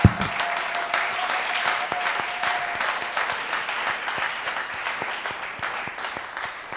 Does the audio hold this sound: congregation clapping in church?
yes